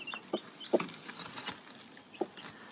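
A broody hen with day-old chicks in a garden coop gives faint, scattered soft clucks and peeps over quiet outdoor background.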